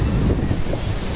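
Sea waves surge at the shore in a cool wind, a dense close rush of water and wind noise against the microphone, brief and steady, with faint voices in the background.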